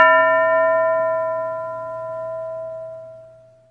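A single school bell in a classroom is struck once and rings out with a clear metallic tone that slowly decays over several seconds, heard alone with no talking.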